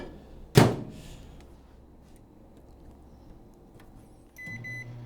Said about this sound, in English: And I'll throw that baby in the microwave.